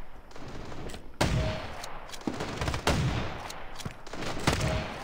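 Bursts of AK rifle fire in the Standoff 2 shooter game, several sharp loud volleys spread across the moment with brief gaps between them.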